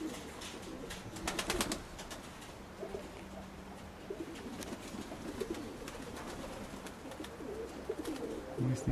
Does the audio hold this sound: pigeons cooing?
yes